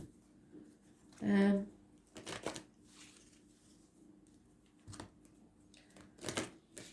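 Cards slide and shuffle from a deck in a brief, fairly close burst of papery riffling, followed by softer handling rustles and taps, with a voice talking at times.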